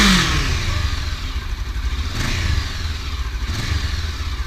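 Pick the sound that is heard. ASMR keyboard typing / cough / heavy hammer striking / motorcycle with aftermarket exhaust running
motorcycle with aftermarket exhaust running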